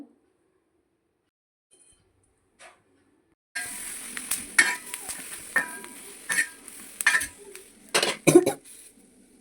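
Washed chillies crackle and sizzle as they roast until blackened in a hot pan after a quiet start, with sharp pops and scraping stirs coming in irregular bursts.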